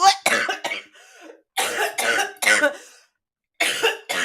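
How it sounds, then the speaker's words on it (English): A man coughs hard several times in separate harsh bursts, a few rapid coughs, then a longer fit, then one more after a pause, loud and close to the microphone. "I coughed and I got that burn in my nose."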